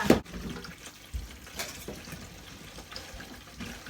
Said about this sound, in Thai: ล้างผักต่อกันจ้า